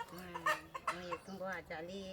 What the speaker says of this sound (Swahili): namsikia kuku analia